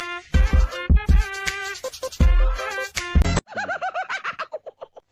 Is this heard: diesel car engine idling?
no